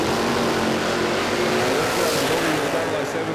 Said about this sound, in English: Pine Mountain Performance on board for the LH Tirana of Rob Price from Browns Plains.